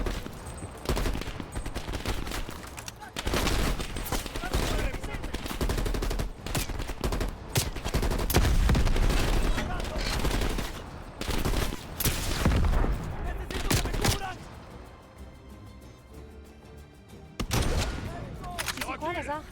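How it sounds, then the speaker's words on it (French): Dense bursts of automatic gunfire rattle almost without pause in the Call of Duty Cold War campaign, loud and close, with booms and French voices talking over the shooting. "Des rafales, Lazare."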